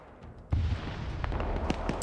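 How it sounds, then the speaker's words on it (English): A sudden explosion in a military combat video game, a single heavy boom that bursts out and then rumbles on with scattered crackles and pops, moderately loud with no talking. "I can't tell if that was a drone hitting the power line, or what caused that explosion."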